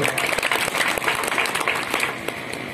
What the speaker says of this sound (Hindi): इस मुल्क के लिए एक ताली बजा दी जोरदार